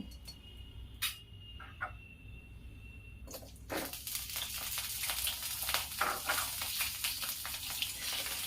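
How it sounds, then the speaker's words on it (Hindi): Potatoes going into hot oil: a few sharp clinks and taps first, then from about four seconds a bright, continuous sizzle and crackle of frying that holds steady to the end, fairly close. "दोस्तों, तेल अच्छी तरह गर्म हो चुका है। इसमें मैं पहले आलू डाल देती हूँ।"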